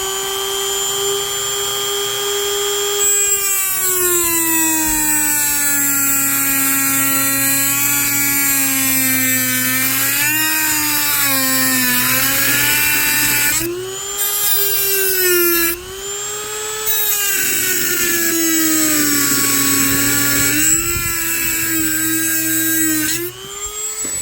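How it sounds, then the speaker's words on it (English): A Dremel rotary tool buffs out a scratch on a Chevrolet squarebody crew cab dump truck, its high motor whine loud and steady for about twenty seconds, pitch wavering with load and dipping briefly twice. "One thing with the Dremel, hooey, that baby gets hot fast."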